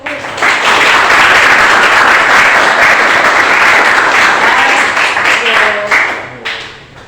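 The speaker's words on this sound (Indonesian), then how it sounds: "Aplaus untuk semua." Classroom applause from a group of students, a sustained, dense burst of clapping that holds steady for several seconds and then tapers off, with a few voices mixed in near the end.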